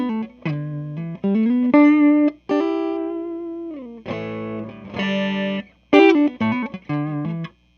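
Clean electric guitar on the neck pickup through a Fender Blues Jr. tube amp, playing a melodic phrase of single notes and sustained tones, bright and close, with short gaps between phrases and no talking.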